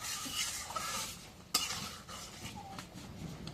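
Spiced masala for a meat curry is stirred in a pan, making quiet scraping and a single sharp clink of the utensil over a faint sizzle, fairly soft and with no talking.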